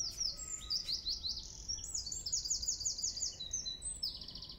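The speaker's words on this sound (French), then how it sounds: "vous attendez mes oiseaux chanter" Small garden birds chirp and sing in quick repeated bursts of high tweets, close and clear, over a soft outdoor background with no talking.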